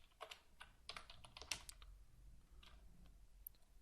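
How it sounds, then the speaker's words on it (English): Code typed on a computer keyboard while building an Android app: quick, close clusters of crisp key clicks in uneven bursts with short pauses between. "here we type in the code which we need for the application to change the text"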